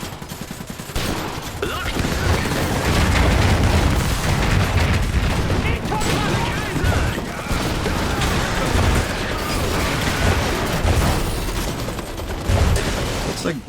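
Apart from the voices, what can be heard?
gunfire and explosions in the video game Iron Harvest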